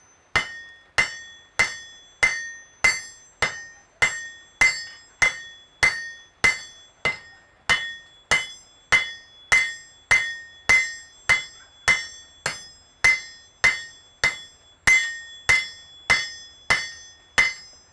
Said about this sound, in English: A lot of ring in that anvil.